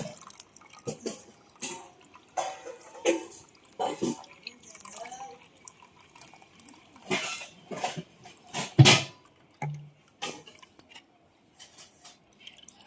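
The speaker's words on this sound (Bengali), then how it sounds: "বেশি করে জল দিয়ে আমটাকে আমি ধুয়ে দেব।" Raw mango being rinsed in plenty of water: scattered drips and splashes with occasional clinks of a bowl or utensil, intermittent and close, no voices.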